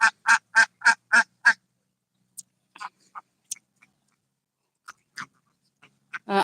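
At a duck farm, a rapid run of six loud, close duck quacks, then a lull broken by scattered fainter quacks and calls.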